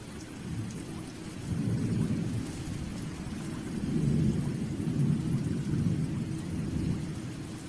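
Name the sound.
rain and thunder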